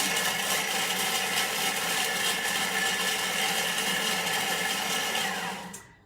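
A food processor chops fennel, caraway and rye cracker ingredients in a loud, continuous whirring burst lasting about five seconds before it abruptly cuts off.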